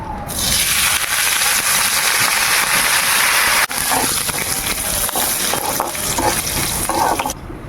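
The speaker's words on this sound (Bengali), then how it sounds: "এই দেখুন কারি পাতা, এটা আমি তেলের মধ্যে ফোড়ন দেবো" Curry leaves hiss and crackle as they hit hot oil for tempering, a loud, dense sizzle that runs steadily for several seconds with no one speaking.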